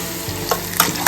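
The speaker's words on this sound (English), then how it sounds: "The garlic is getting golden now." Crushed garlic and curry leaves fry in a pan with a steady close sizzle. A few short stirring scrapes sit on top, and a sharper clatter comes at the end.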